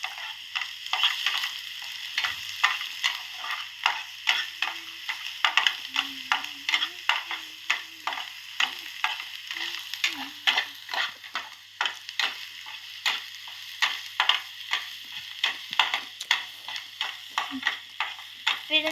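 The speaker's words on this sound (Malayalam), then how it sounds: "എന്നിട്ട് നമുക്ക് വീണ്ടും വഴറ്റാം." Onion, garlic and ginger sautéing and sizzling in a pan, with steady frying crackle and repeated stirring scrapes of a spoon throughout, fairly quiet and close.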